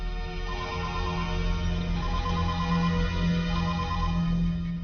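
A phone ringtone plays throughout a tense Telugu film scene, a steady, repeating electronic melody over a low hum with no talking.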